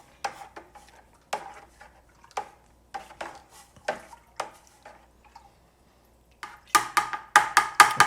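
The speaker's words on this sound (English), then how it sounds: "I've stirred up the top, now I'll stir down the bottom." A stirring tool scrapes and knocks against the side of a fermenting watermelon brandy wash with raisins, making irregular sharp clacks and swishes with short pauses, then a quicker cluster of knocks near the end.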